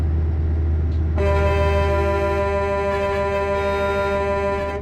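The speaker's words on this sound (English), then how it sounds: "Gotta honk the cops." Loud, sustained truck air horn blast in a truck simulator video game, kicking in abruptly after a second of low engine drone and holding steady to the end, with no talking.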